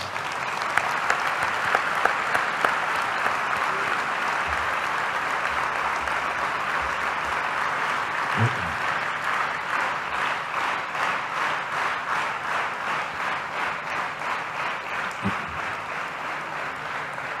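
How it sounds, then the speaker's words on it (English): A large audience at an ashram birthday celebration applauds the Seva Dal volunteers, long sustained clapping that settles into a loose rhythmic pulse toward the end. "So I think we all need to give the Seva Dal a big round of applause."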